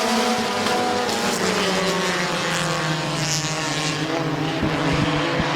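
Compact race cars at Midvale Speedway during a heat race, several engines roaring loudly and continuously with shifting harmonic whines as the cars run close together on the oval.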